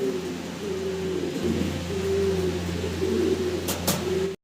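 Fancy pouter pigeons, including magpie and Pomeranian pouters, coo in low rolling phrases across the whole span, close and steady, with a brief higher chirp near the end before sudden silence.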